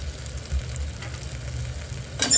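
Ginger garlic paste frying with smashed tomato in a pan for a mushroom egg biryani: a steady close sizzle with stirring scrapes, and a louder clatter at the very end.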